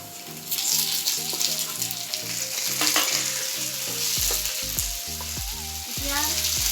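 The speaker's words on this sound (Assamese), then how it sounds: "তেল বিৰিঙি আহিলে আমি ভজা মাছখিনি দিম।" Fried fish dropped into hot, bubbling oil over browned onions for a milk-based fish curry, with a steady sizzle and frying crackle running the whole time beneath fairly loud background music.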